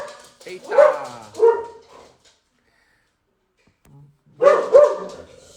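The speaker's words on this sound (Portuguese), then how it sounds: "Já começamos bem com o Zika latindo aqui bastante" A dog named Zika barks close by indoors, two loud barks, then a pause of about two seconds, then two more barks, with speech-like sounds mixed in.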